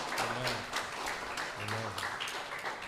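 A congregation applauds during a Spanish-language church service, producing a soft, distant wash of clapping that persists throughout, with faint tonal voices or music mixed underneath.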